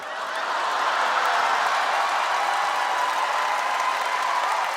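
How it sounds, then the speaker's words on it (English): Audience clapping at a stand-up comedy show, a sustained, even wash of applause that swells in quickly and holds steady without talk. "Why are we clapping?"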